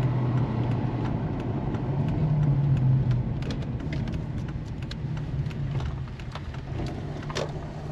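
A Lexus LS430 rolls over a gravel public road toward a farm, a steady close engine and tyre rumble with scattered crunching pops from stones under the wheels throughout.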